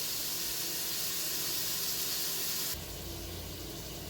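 Onions and strips of salt pork sizzle in an Instant Pot, giving a steady hissing and frying sound that drops slightly in level partway through and continues alone with no talk.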